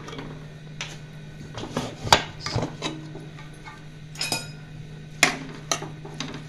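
A pressure cooker lid is unlocked and lifted after cooking with whole black pepper, giving a string of sharp metallic clanks and scrapes of varying loudness with quiet gaps between them.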